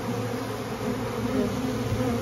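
Dense, steady buzzing of honeybees swarming around a trap-out at a tree, continuous and close with no pauses or voices.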